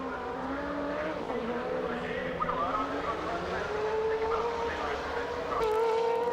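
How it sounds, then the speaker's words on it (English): A race car sliding sideways on gravel during a practice session: a sustained engine whine with pitch shifting upward, a rough gritty spray underneath, and a louder burst near the end. "throwing up gravel as he slid sideways"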